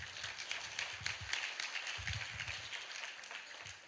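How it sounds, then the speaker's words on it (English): An audience at an international child protection conference in Africa claps, a soft, scattered burst of applause heard from a distance in a hall. "More clapping."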